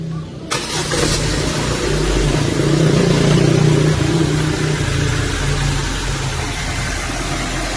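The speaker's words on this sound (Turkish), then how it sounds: "Zaten çalışır çalışmaz bir saniye sonra böyle bu şekilde teklemeye başlıyor araba" A petrol Ford Focus starts and then runs with an uneven, faltering misfire, a steady close engine drone that rises slightly before settling, heard alone without talk.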